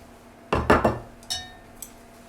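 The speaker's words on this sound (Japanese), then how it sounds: "先ほどの緑の部分のですねおネギを入れます" Green onion pieces dropped into a simmering pot of tuna hotpot, landing as a few close clinks and taps against the pot in quick succession, then a softer knock and a faint final tap.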